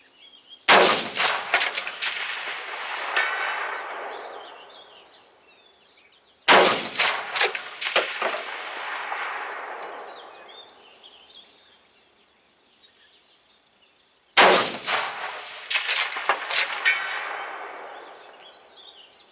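Three sharp rifle shots fired at a target outdoors, taken through a vintage Weaver K6 scope, each a loud crack trailing into a long fading echo several seconds apart, with faint bird calls between.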